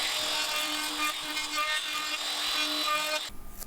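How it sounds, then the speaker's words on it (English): Bandsaw cutting thin strips of wood for a bentwood charcuterie board handle, a steady close whine with the blade's hum and a rising grind as it passes through the timber, stopping abruptly at the end. "cut strips of wood in the bandsaw that I can later bend into the shape I want for the handle"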